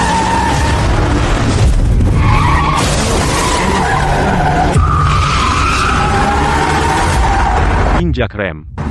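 A car brakes hard with tires skidding and squealing loudly over several seconds, ending abruptly; voices speak over it, and a short distorted burst follows the stop.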